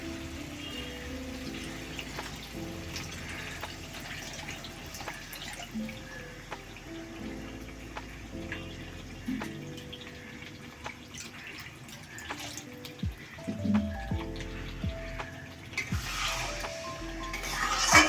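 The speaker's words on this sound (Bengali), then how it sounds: "চিকেনটা সিদ্ধ হওয়ার জন্য অল্প একটু জল দিয়ে দেব" Water is poured into masala-coated chicken for dhania chicken, giving faint trickling and dripping over a quiet, continuous background with a few soft knocks, close and without talk.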